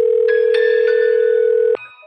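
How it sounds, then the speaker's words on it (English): A telephone ringing tone heard from the caller's end, one steady electronic tone held for nearly two seconds, then cut off abruptly, with faint background hum. "I zoned out as the phone rang."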